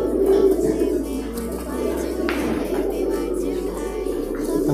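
A champion breeding pigeon from a red dragon bloodline coos in soft, repeated throaty rolls, close by against a steady background hum.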